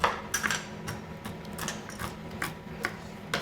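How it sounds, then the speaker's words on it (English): Repeated sharp knife chops through pistachios on a cutting board, a steady series of crisp taps about every half second, close by with faint background clatter in a firehouse kitchen. "I'm gonna start chopping the pistachios."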